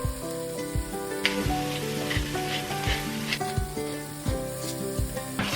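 A pan sauce seasoned with dried thyme, salt and black pepper sizzles steadily while a utensil stirs it with quick repeated scraping strokes, close and moderately loud, with no talking.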